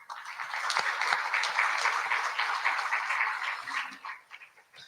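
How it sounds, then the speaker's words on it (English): Audience applauding a company director at an event focused on Gaza, a sustained wash of many hands clapping at moderate distance, tapering off near the end. "Please join me in giving him a round of applause."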